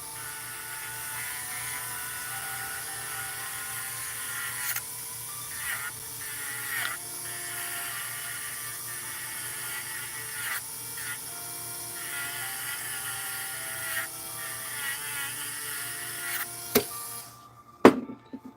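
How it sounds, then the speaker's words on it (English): A Dremel rotary tool cleans filings out of a metal file, a thin high whine running steadily with short grinding bursts where it bites, fairly close and moderately quiet, then cutting off near the end. "I'm going to grab the old Dremel. I'm going to clean out this"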